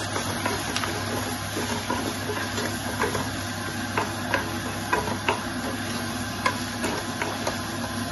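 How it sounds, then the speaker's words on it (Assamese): Turmeric and spices are stirred in a cooking pan over a steady frying hiss, with soft scraping ticks of the spoon recurring close by. "হালধি দিছোঁ এইখিনি এতিয়া লৰাই দিওঁ"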